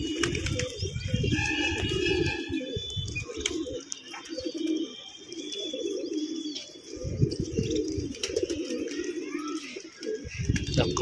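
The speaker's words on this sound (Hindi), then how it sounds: "कबूतरी उड़ने वाली है, उड़ती है" Pigeons cooing and calling with bursts of wing flapping as they take off, close by, with voices talking intermittently in the background.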